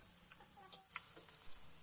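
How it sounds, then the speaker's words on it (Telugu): Eggs frying in a pan with chili powder and salt give a faint, steady sizzle with light scraping and ticks of stirring, heard up close without talk. "ఇప్పుడు కొంచెమంత కారం, కొంచెమంత ఉప్పు వేసుకొని ఈ ఉప్పు కారం ఎగ్స్ పట్టే విధంగా ఒక 2 నిమిషాల పాటు ఫ్రై చేసుకోండి."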